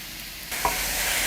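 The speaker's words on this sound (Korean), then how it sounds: "예열된 팬에 물기를 쭉 뺀 감자를 넣어서 강불로 볶아주세요." Drained potatoes drop into a preheated, oiled pan over high heat, and a loud broadband sizzle bursts up halfway through and holds steady and close.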